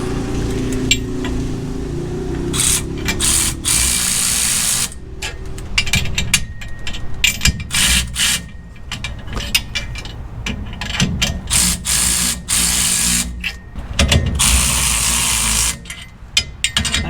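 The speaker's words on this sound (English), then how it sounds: "everything that the little 3/8 power ratchet will give me" A 3/8 power ratchet tightens traction bar bolts on an LS-swapped Ford Ranger, whirring in loud, close bursts broken by short pauses and clicks.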